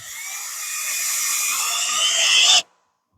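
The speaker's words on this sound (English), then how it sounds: "if you take your drill, get your screw going" A power drill drives a screw with a steady high whine that builds slightly in pitch and loudness for over two seconds, then cuts off abruptly into silence.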